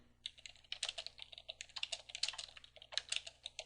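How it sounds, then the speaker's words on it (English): Rapid typing on a computer keyboard at a Linux terminal prompt while composing a mail message: uneven bursts of close, crisp key clicks with brief pauses, no voices. "At the prompt, you type in the message that you want to send."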